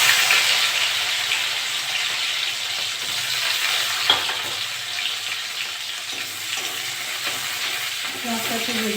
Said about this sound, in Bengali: ওই তেলে আমি পেঁয়াজ দিয়ে দেবো।